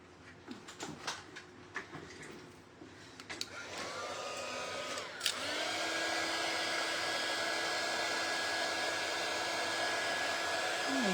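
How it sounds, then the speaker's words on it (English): Small heat gun switched on and blowing hot air, a steady whirring hiss that starts after some quiet handling noises and keeps running loudly to the end. "I have a little heat gun"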